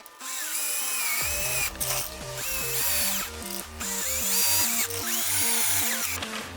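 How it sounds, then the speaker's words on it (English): A power drill whirs in short repeated bursts with rising and falling pitch, close by, as self-tapping screws are driven one after another into a car bumper. "you can use a screwdriver or a drill and just put the rest of the screws in"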